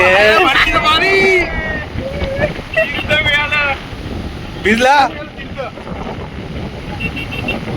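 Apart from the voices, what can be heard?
strong wind at the seashore, Dhanushkodi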